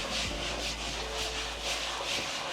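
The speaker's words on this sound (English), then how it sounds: "And then I'm gonna scrub." A gritty surface gets scrubbed clean of baked-on mackerel residue and fish blood with a rhythmic, close back-and-forth rasp that repeats steadily throughout.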